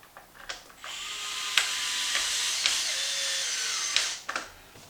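A Dewalt cordless drill drives screws into XMAXX shock towers, a steady high whirring run of a few seconds with brief pulses at the start and a stop-start finish, close and alone.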